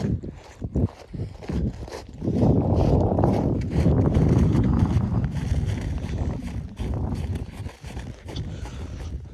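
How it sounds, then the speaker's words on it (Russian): Strong gusty wind buffets the microphone outdoors during snowfall, a loud rumbling roar that swells and eases in waves with scattered thumps. "Ну, считайте, ветер такой прям приличный."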